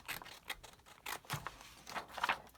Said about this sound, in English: I'm just going to cut one of these out real quick